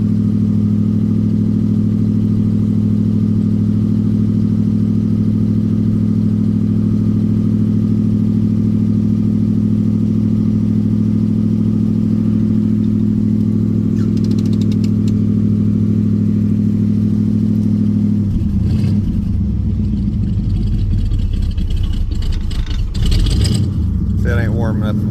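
A 1967 Chevelle engine idles after a cold start, a steady, loud low rumble that holds unchanged for about eighteen seconds, then roughens with some clatter and blips near the end. Someone talks over it.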